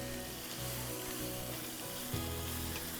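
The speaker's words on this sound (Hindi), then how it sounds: "अब इसको हम इतनी देर पकाएंगे कि चिकन पिंक से वाइट हो जाए, यानी गल जाए।" Chicken pieces frying in a pan, a steady close sizzle with faint stirring scrapes throughout and no talking.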